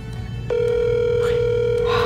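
A telephone dial tone starts abruptly about half a second in and holds as a loud, steady tone while a call is placed, with faint room noise underneath.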